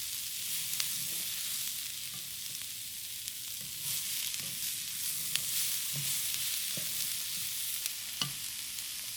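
Shrimp and asparagus sizzle in a pan as a stir fry cooks, a steady close hiss of frying with occasional soft clinks and stirring scrapes and no talk.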